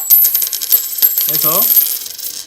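Coins clatter and jingle as they drop onto a hard surface, a burst of bright metallic clinks with a short ringing coin wobble partway through, loud and close.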